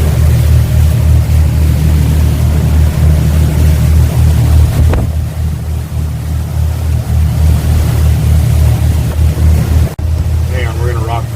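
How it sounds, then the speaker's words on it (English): Storm wind and rain battering a trawler boat: a loud, steady low roar with gusty buffeting and a droning rumble throughout, a brief sharp knock near the end. "it's raining and storming."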